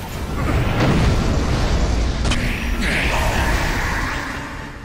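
Loud rumbling explosions and booming bursts in Shadow of Mordor roll on continuously, with whooshing debris and a sharp burst partway through.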